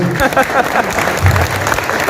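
Audience applause at a motivational talk on the journey from railway platform to crorepati, a dense, steady wash of clapping filling the short moment at full loudness, with speech blurred into it.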